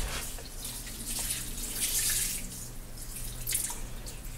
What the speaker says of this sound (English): So, I'm just going to add that water first.